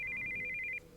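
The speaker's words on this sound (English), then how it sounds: "we heard the sound of an incoming call on a cell phone." Cell phone incoming-call ringtone from the Steins;Gate 0 video game, a steady electronic warbling tone ringing continuously for most of a second, then cutting off and leaving quiet background.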